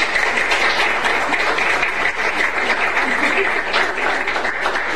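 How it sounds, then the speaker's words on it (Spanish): Steady applause from the audience at a municipal council session in Arandas, greeting the town's beauty representative; dense, even clapping fills the whole stretch at close range. "les pido por favor un fuerte aplauso."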